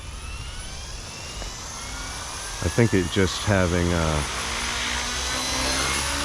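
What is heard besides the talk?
radio-controlled helicopter flying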